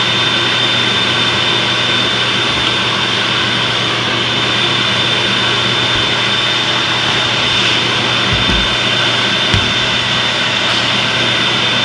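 Shop vacuum roaring steadily through a homemade dust separator with strong suction, a loud constant whine and airflow rush filling the whole stretch, with faint knocks near the end.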